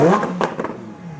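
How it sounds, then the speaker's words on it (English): A Lamborghini Huracán Performante Spyder engine barks through a short, sharp rev that rises and falls within about a second, loud and close, in a car-meet setting. "Rev it up."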